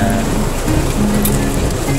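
Rain falling on a car, heard from inside as a dense, even patter of drops that stays constant and moderately loud throughout.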